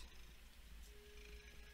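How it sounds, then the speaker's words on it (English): A cat purrs close up with a steady, low, rumbling drone that runs the whole short stretch, soft in overall level, with no talking. "Can you hear her with how loud she's purring?"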